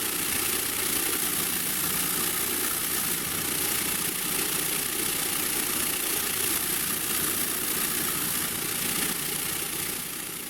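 Vibratory bowl tumbler driven by a motor with a weighted length of threaded rod on top, running steadily as a dense, even hum and rattle, loud and unbroken throughout.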